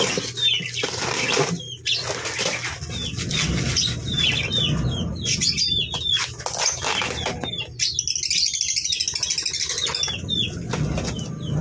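Birds flutter and flap their wings repeatedly in a cage, with scattered chirps and rustling over a continuous background.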